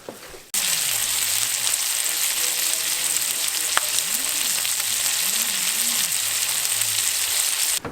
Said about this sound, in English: we just got done frying up some burgers